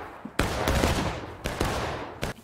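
Musket volleys crack out in the War of Rights Civil War battle game, loud broadband bursts with several shots overlapping, three clusters of fire in quick succession.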